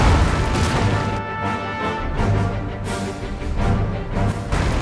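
Artillery fire in a Total War battle recreating the 1880 Battle of Maiwand between British Empire and Afghan forces, a dense, continuous rumble of distant booms and crashes overlapping steadily with no talk.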